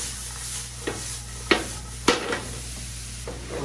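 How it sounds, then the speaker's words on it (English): Chopped vegetables sautéing in an already hot pan for chili con carne, a steady broad sizzle with a few sharp stirring scrapes and knocks, close and continuous, no talk. "we're just going to add our vegetables to the already hot pan. We're going to saute those until they're soft."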